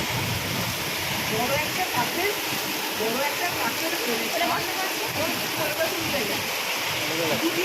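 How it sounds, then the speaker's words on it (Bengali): Heavy rain pours down in a dense, unbroken roar that stays loud and steady from start to finish. "আমরা এখন বৃষ্টির মধ্যে আছি"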